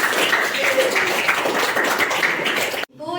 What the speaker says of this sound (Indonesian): Tepuk tangan dulu buat Putri.